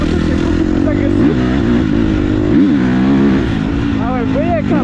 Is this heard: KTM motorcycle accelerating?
yes